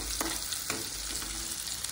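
Onion and tomato fry in a pan with a steady, dense sizzle, broken by a few soft stirring scrapes, close and moderately loud with no voices.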